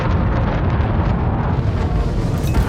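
Continuous roaring rumble of pack hound missiles detonating against a ship in Elite: Dangerous, a dense, loud, sustained blast-like wash with no clear breaks and no voices.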